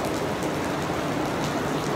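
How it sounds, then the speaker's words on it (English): Heavy rain during a typhoon in Hong Kong, a loud, dense, steady roar of downpour hitting the street and surfaces just outside a subway exit, continuous with no pauses. "it is raining really hard."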